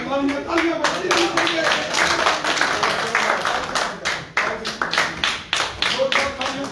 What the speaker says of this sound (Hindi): तालियां तालियां तालियां बजाइए